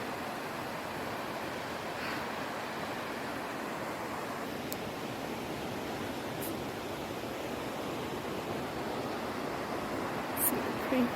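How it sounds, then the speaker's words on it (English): Steady, broadband rush of a flowing creek near Burney Falls in Northern California, heard continuously and fairly close along an uphill hiking trail, with no talking. "There's a creek."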